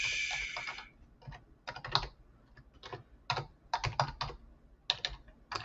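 Quiet computer keyboard typing comes in irregular bursts of clicks and pauses, close and alone in a calm room.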